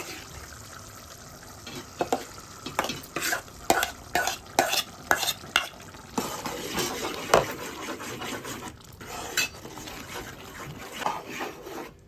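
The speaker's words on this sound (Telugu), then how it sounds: "ఇలా రుబ్బుకున్న గోంగూరని ఇప్పుడు మనము ఉడుకుతున్న ఈ కర్రీలో కలిపేసుకోవాలి" A spoon stirs ground gongura leaves into a boiling prawn curry in a pan, giving repeated scraping strokes in an uneven rhythm over a soft bubbling sizzle, close and moderately loud with no talking.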